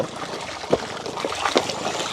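Water is pumped from a village tube well, splashing and gushing close by in a steady flow broken by a few sharper surges.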